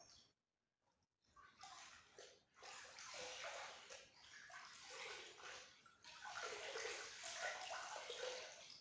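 A rag is rinsed and wrung in water while preparing a surface for a fiberglass wind turbine cover, giving steady sloshing and splashing after a short quiet start, close and fairly faint.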